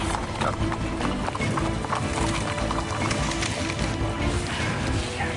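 Horse hooves clopping on rocky, tough backcountry ground, a steady stream of close, loud, irregular hoofbeats with occasional bird calls.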